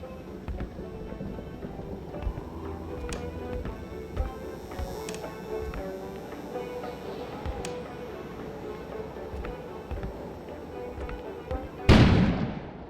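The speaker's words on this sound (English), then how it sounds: "An explosion suddenly occurred outside." Scattered crackles and distant booms rumble along in the video game Kona, then a loud, sudden explosion bursts close by near the end.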